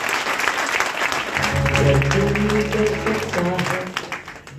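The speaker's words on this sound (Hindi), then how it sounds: "एक बार जोरदार तालियां बजा दीजिएगा इन साथियों के" A crowd at a business gathering applauds army veterans, sustained clapping swelling and holding for several seconds, with a brief spoken word near the end.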